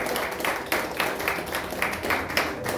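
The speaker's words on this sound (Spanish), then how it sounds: "Denle un aplauso al Señor." Applause from a church congregation praising the Lord, a sustained wash of many hands clapping with recurring rhythmic swells, loud and close, with no talk over it.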